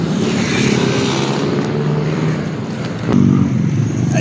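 Fast vehicles rush past on the road, a loud, steady roar of traffic noise that swells sharply near the end as a closer one goes by.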